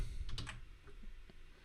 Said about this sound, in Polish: Wpisuję kod SMS